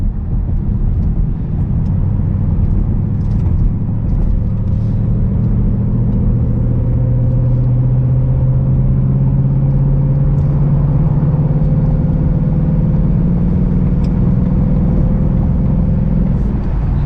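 Steady, loud road noise of a 2020 Ford Mustang GT convertible with a soft top and six-speed manual cruising at about 73 mph, with a constant low rumble and a droning engine tone that slowly rises; no talking.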